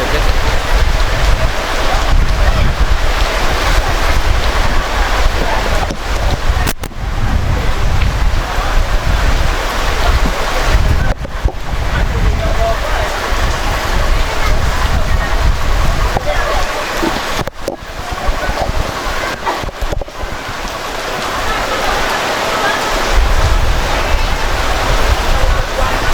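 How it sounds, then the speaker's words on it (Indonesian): Heavy rain driven by gusting wind during an outdoor theatre performance, a dense continuous roar of downpour and buffeting wind noise throughout, loud and close. "Hujan deras guys, hujan campur angin guys."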